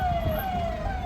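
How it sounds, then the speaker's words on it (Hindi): An ambulance siren on a long bridge over the Ganges, a steady wailing tone slowly sliding in pitch over traffic rumble, close and loud for about a second. "ये एम्बुलेंस को रास्ता दिया जा रहा है"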